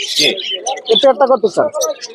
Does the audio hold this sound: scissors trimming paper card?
no